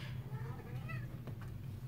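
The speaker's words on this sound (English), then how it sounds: "Also, a cat." A pet cat meows indoors, a couple of short, soft calls rising over a low background hum, faint and nearby, with no speech over them.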